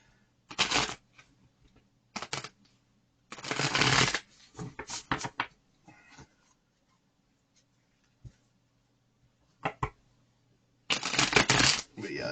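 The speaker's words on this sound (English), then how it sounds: "I just feel like I need to shuffle them a time or two." Tarot cards are shuffled in several short riffling bursts separated by quiet pauses, close and crisp, with soft handling sounds in between.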